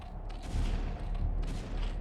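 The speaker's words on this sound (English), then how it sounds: "What are cannons attacking?" Cannons firing in a 3v3 StarCraft: Brood War match on the Fastest map, a dense run of booming gunfire-like blasts that rolls on without a break for the whole stretch, with no voice over it.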